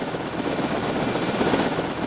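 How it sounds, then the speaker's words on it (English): A helicopter in the video game Tropico 4 flies in to water fields, producing a loud, continuous rotor whir with a steady rapid pulse and no talking. "So helicopters just come in and water fields for me."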